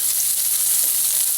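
Onions sizzle steadily in a small steel wok, a continuous bright hiss of frying with no pauses, close and fairly loud, with no voices over it.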